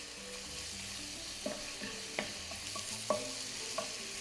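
Onions and garlic cooking in butter for a spring pea risotto, with a steady low sizzle and a few sharp clinks and scrapes of stirring, close and alone without voices.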